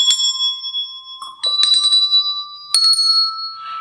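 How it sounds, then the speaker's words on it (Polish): A set of eight small bells sounds one at a time, four clear ringing strikes with long shimmering decays, close and alone in quiet. "my gramy na dzwonkach"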